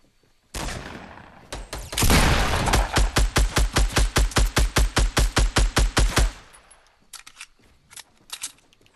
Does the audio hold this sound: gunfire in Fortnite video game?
yes